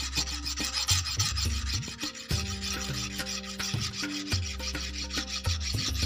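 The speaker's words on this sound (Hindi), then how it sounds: "आपने यहाँ से भी थोड़ा सा रेती से रगड़ लेना है" A metal file rasps back and forth against a sewing machine needle-rod part in steady, close strokes, continuous and loud, with no talking.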